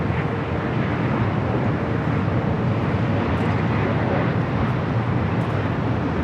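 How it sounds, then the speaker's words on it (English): Air Canada Boeing 737 MAX 8 arriving at LAX from Vancouver, a steady, moderately loud jet rumble mixed with wind buffeting on the microphone, without talk. "556 coming in from Vancouver on the MAX 8."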